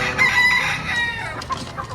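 Chickens crow loudly and cluck close by at a poultry market in Padre Garcia, Batangas, a short burst of overlapping fowl calls.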